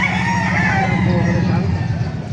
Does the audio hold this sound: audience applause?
no